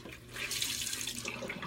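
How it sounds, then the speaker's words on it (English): Hot water runs from a tap into a sink for a washcloth, a close, steady splashing stream that continues throughout at moderate volume. "I get it in nice hot water"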